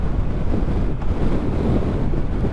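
Strong wind buffeting a microphone while riding a motorcycle, a dense, continuous low roar close up and steady throughout.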